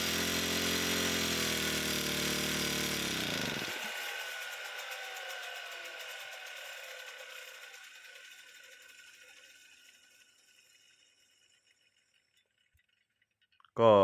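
A shoulder-strap string trimmer engine revs loudly, then cuts off and winds down over several seconds into near silence, ending with a brief sharp noise.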